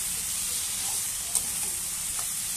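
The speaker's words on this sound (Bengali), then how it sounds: "দিয়ে আবার ভালো করে নাড়িয়ে নেবো তরকারিটা।" Fried prawns and Malabar spinach curry are stirred in a hot pan, with a steady close sizzle and a soft scrape of the spoon underneath, no voices.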